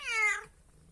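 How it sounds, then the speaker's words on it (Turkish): A pregnant cat in labor gives a single close, drawn-out, strained meow lasting about half a second, followed by near silence. "Ve acı acı miyavlıyordu."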